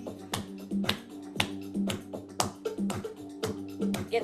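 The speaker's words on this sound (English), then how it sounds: "clapping." Hands clap during a breathwork session in a steady rhythm of sharp claps about twice a second, over soft, sustained musical tones, with no talking.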